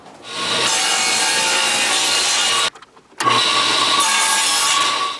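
Wood pieces for a birdhouse with bark siding being cut by saw, a loud steady rasping cut that runs continuously, breaks off briefly partway through, then resumes with no talking.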